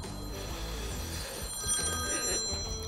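A telephone rings outdoors beside a river during a feeder fishing session, its tones faint and repeating over background ambience.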